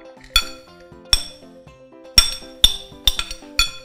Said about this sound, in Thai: เดี๋ยวเราจะมาโขกเครื่องแกงกันนะคะ